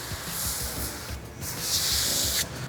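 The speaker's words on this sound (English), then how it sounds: "Just spray a little on the brush and go ahead and get to cleaning." A multi-use cleaner is sprayed onto a brush in two close, breathy hissing bursts, the second longer and louder than the first.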